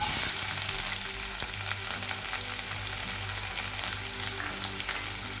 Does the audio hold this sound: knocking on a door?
no